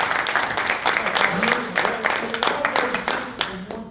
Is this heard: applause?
yes